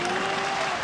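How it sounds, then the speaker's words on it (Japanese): A crowd at a 1999 RINGS mixed martial arts fight cheers and applauds in a dense, steady roar, loud and continuous over the brief moment. "いい試合だという 声援が飛んでいます。"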